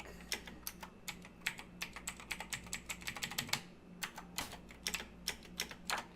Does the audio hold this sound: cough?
no